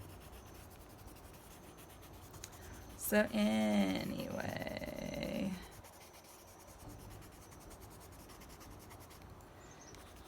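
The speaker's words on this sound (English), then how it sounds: "I'm just kind of running my pencil around" Pencil scratching and rubbing across paper for a couple of seconds, close and fairly loud, with a brief spoken word beforehand and quiet room noise.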